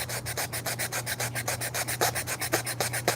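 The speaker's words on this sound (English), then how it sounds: "hold it, and start sanding." Close, rhythmic hand sanding of a wooden piece shaped for a hinge: roughly twenty brisk scratchy rubbing strokes at an even pace, with a faint constant hum underneath and no talking.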